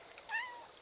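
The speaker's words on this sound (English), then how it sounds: "He's turning in to be a good cat." A single cat, about four years old, gives one short, faint meow outdoors near an evening bonfire, rising then falling, against quiet surroundings.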